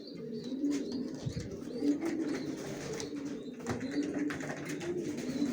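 A pair of black chequer racer pigeons coo softly and steadily in a loft, low repeated throaty calls at moderate distance with light background noise.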